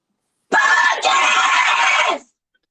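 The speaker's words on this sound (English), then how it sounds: "that scream sounded like an Aztec death rattle" A loud, harsh scream rings out alone for nearly two seconds, with a brief catch partway through, then cuts off abruptly into silence.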